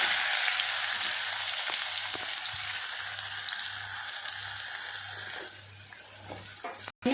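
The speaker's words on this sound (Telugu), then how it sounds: "కొంచెం మెంతులు వేసుకోవాలి, పులుసు కూర కాబట్టి బాగుంటుంది. కొంచెం జీలకర్ర, ఆవాలు, ఉల్లిపాయలు వేసుకోవాలి." Fenugreek, cumin, mustard seeds and onions frying in oil in a pan for an egg curry, a loud continuous hiss and sizzle up close with occasional small pops, easing slightly near the end before a sharp knock.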